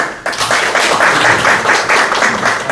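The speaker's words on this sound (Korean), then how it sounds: "많은 박수로 부탁드리겠습니다" Audience applause at a Korea University open data event, dense and steady, close and loud for a few seconds after a short quiet start.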